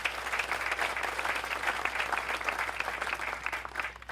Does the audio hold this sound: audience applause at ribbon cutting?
yes